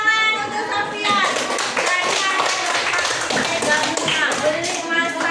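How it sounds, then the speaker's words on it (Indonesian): Classroom applause for a student, a burst of loose hand clapping from many children, close and lively, with children's voices mixed in throughout. "tepuk tangan untuk Sofian."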